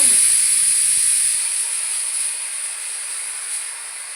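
A pressure cooker lets off steam in a kitchen with a loud, steady high-pitched hiss that slowly fades.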